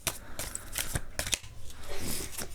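Tarot cards shuffled and drawn by hand close up: a quick series of papery flicks and riffles, with a softer sliding rustle toward the end.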